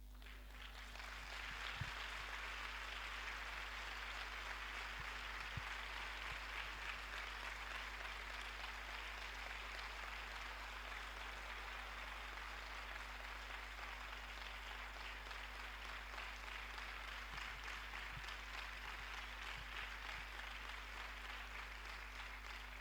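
Sustained audience applause filling a lecture hall after a Spanish-language maths talk, steady and dense for over twenty seconds with no voices on top.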